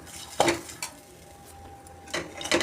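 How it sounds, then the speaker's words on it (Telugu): Fried ladies finger (okra) being stirred with salt in a pan: a few quick scraping strokes of a utensil against the pan, with faint sizzling between them, close and without speech. "టేస్ట్కి తగ్గ సాల్ట్ వేసుకొని ఇప్పుడు బాగా కలుపుకోండి"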